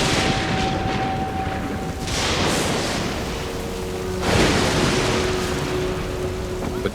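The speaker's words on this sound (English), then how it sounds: "Suddenly, a furious storm came up on the lake, so that the waves swept over the boat." Storm waves crash and surge over a boat on a lake, a loud rolling roar of water and wind with heavy bursts of surf breaking through.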